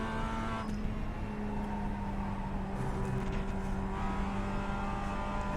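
A small Mazda race car in iRacing drones at a steady engine pitch, the close, even hum of the motor holding with slight variations in revs.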